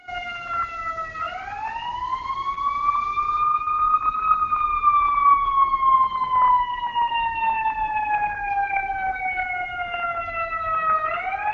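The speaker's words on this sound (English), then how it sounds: "the ambulance siren going off" An ambulance siren wails outside in a slow, steady rising and falling tone, moderately loud and continuous for several seconds against a quiet room.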